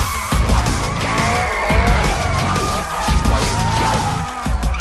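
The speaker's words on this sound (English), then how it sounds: "Now we're gonna learn about linking drifts and changing direction." A car drifts through figure eights in Need for Speed Shift 2, its engine revving hard in repeated surges while tires squeal and skid loudly, the pitch rising and falling as it changes direction.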